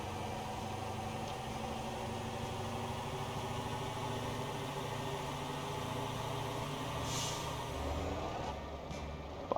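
A heavy wrecker truck idles and rumbles in the Motor Town driving game, a low steady diesel drone with a short hiss of air brake near the end and no voices.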